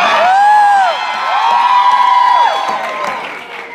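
Audience at the final Broadway curtain call of Rock of Ages cheering loudly, with whoops and shouts rising over a dense wash of applause, swelling and easing in waves over a few seconds.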